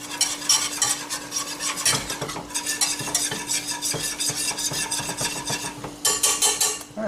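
A spoon stirs a roux cooking in a pot on a Big Green Egg grill, with continuous scraping and clinking against the pan over a soft sizzle, close and fairly steady with no voices.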